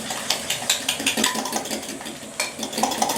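Fork stirring and mixing a seasoned chicken mixture sprinkled with garlic powder and pepper, a steady run of close scraping, tapping strokes against the bowl with a brief pause near the end, with no talk.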